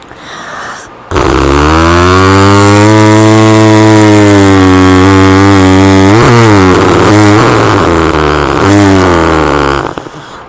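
A performer on a stage show imitates a motorbike with his voice, a loud, close, buzzing engine drone that rises and falls in pitch like revving and shifting gears for several seconds before cutting off.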